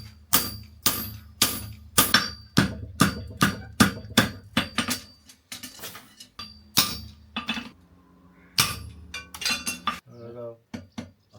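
Farrier striking a horseshoe with a clipping hammer while forming clips, a loud close series of sharp metallic ringing blows in a steady rhythm, pausing briefly before a final quick flurry of strikes.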